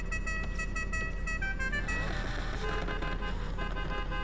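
Car horn honking in the Need for Speed racing game, an old car converted into a sports car, heard as steady tonal toots over continuous engine and game noise at moderate level.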